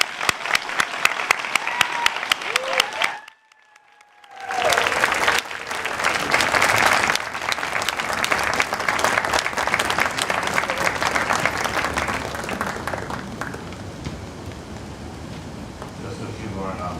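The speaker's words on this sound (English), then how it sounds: "please join me in giving a big, well-deserved round of applause to the graduating class" A large crowd at a graduation ceremony applauds the graduating class loudly and continuously, with a brief hush in the middle before clapping resumes and gradually softens toward the end.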